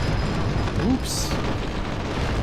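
Explosions in Fallout: New Vegas: a muffled boom with a short, bright burst about a second in, over a rumbling game backdrop, with a voice faintly present.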